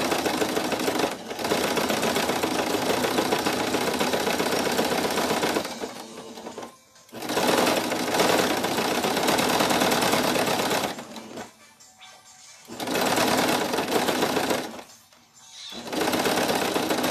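A sewing machine stitches a balloon project in long, steady, loud runs of rapid mechanical chatter, stopping briefly several times between bursts, with no speech.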